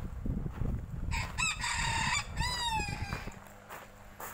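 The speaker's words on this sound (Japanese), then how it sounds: "鶏がいますよ。" A rooster at an old Japanese farmhouse crows loudly and nearby, giving two long drawn-out calls over a quiet outdoor background.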